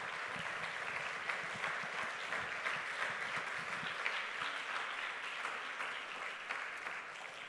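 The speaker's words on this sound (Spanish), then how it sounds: "Vamos a darle un fuerte aplauso al Señor Jesucristo." A church congregation claps together during a Spanish-language service, a continuous, even patter of many hands heard at a distance and fairly faint, sustained throughout.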